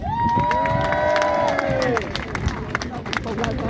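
Rally crowd cheering and clapping for a speaker, loud and continuous, with high sustained shouts or whistles over dense applause in the first half, then steadier clapping and scattered calls.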